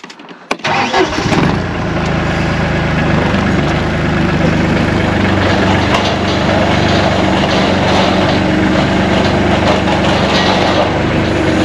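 A Weidemann loader's engine catches with a short start, then settles into a loud, steady, close idle that drones on unchanged.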